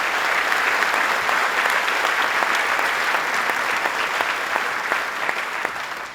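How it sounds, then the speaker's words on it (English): Crowd applause at a governor's announcement of a solar factory complex, loud and sustained, with sharp individual claps standing out from the continuous wash. "Let's give them a round of applause."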